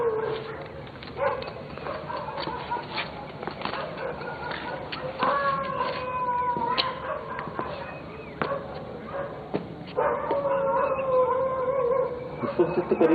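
A black dog howling outdoors at night, drawn-out wavering howls with yelps, heard at a distance over a constant background hiss, with faint voices now and then.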